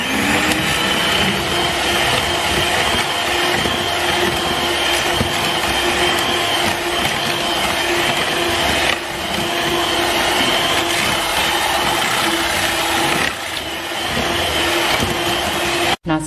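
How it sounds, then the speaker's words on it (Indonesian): Electric mixer whipping egg whites with sugar at medium speed for a sweet potato chiffon cake, a loud, steady motor whir with a constant hum and a brief dip near the end. "Kemudian kita mixer sampai gulanya larut dengan kecepatan sedang."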